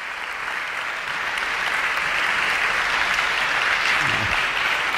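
An audience applauds after a lecture, a dense and steady wash of clapping that swells slightly and holds at a loud level for the whole stretch.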